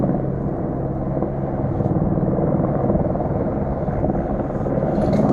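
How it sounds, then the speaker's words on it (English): A commercial helicopter hovers overhead, its steady, dense rotor thump and engine drone continuous and unchanging throughout, fairly loud and without any voices. "Looks like a commercial helicopter though."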